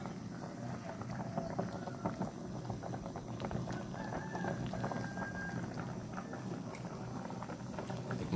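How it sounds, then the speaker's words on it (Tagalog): A pot of tinola fish soup bubbles at a steady rolling boil, a continuous close gurgling and popping with no voices. "Kumukulo-kulo na siya mga kabor."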